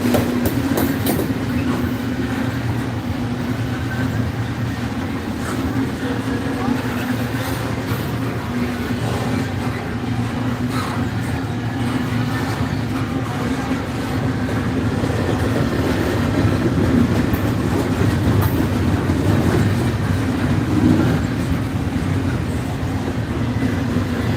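A long Norfolk Southern freight train rumbles steadily past trackside in Ooltewah, Tennessee, with a continuous low roar and rhythmic clatter of wheels on rails, loud and sustained throughout.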